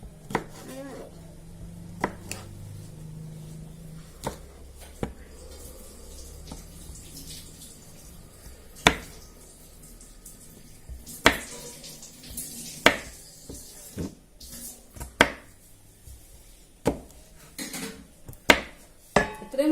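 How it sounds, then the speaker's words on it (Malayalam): Beans being chopped on a board with a knife, giving sharp, irregular taps that grow more frequent and louder toward the end, with faint kitchen clatter and running water behind. "വലുതായിട്ടാണ് ബീൻസ് അരിക്കുന്നത്"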